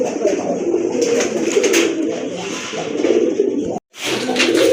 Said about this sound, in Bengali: এটা হচ্ছে মিলি কালার রেড বার্ড কবুতর বিগ সাইজের কবুতর